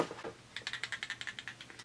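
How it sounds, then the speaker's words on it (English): A small brush rattles inside a Note Cosmetics Luminous Silk Compact Blusher, giving a quick run of about a dozen light, evenly spaced clicks, close and faint. "there is a little brush in the bottom that's making all that noise"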